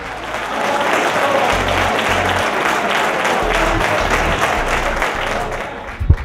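Steady applause from a dining crowd at a Christmas dinner, dense and sustained for several seconds before it tapers off near the end.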